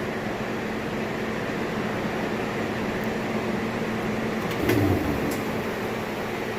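A Maytag washing machine drum whirs in its final spin cycle, a steady mechanical drone with a fan running nearby and a brief louder thump near the end.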